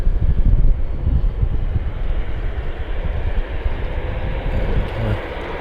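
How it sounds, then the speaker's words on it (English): An Air Portugal Airbus A320neo roars loudly on its takeoff run toward Lisbon at Manchester Airport, a dense, continuous jet rumble that stays strong and steady throughout. "here we've got an A320neo for Air Portugal, and she is off to Lisbon"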